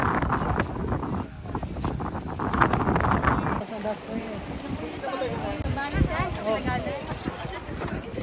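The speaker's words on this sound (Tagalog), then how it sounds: "Marami yung hangin, lakas." Strong wind on the trail to the crater of Mt. Pinatubo buffets the microphone in heavy, uneven gusts, with people talking nearby throughout.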